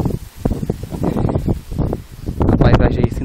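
Strong gusty wind on a mountain trail near Teresópolis, Rio de Janeiro, buffeting the microphone in loud uneven bursts, with people talking over it.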